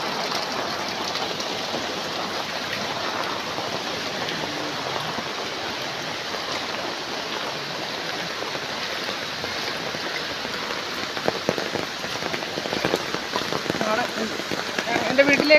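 Heavy monsoon rain falls on a flooded road in Koyilandy, Kerala, a loud, steady pattering hiss that holds throughout and grows slightly denser toward the end, with no voices over it.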